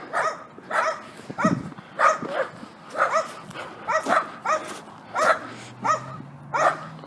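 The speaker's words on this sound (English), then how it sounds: "These dogs are on top of a roof." Dogs standing on top of a roof bark in a steady series of sharp, moderately distant woofs, about a dozen of them, with a low engine hum rising near the end.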